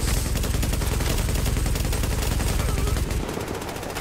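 Rapid automatic gunfire in the shooter game The Division, dense unbroken bursts of close shots that thin out near the end.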